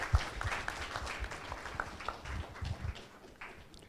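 A crowd at a conference opening ceremony applauds the team behind a VR experience, with scattered clapping and some footsteps, faint and tapering off toward the end.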